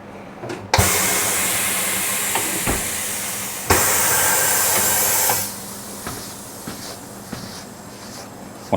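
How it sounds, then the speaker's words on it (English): Aerosol lubricant sprayed onto the bead of a motorcycle rear tire on a chrome wheel, in long loud hissing bursts with short clicks and pauses between them, no voices. "I'm going to spray a little bit of lubricant just to lubricate the bead."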